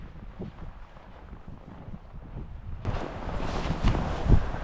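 Wind rushes through trees in Wyoming in rising gusts, a soft hiss that swells louder and brighter toward the end, with no voices.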